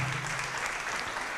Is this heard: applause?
yes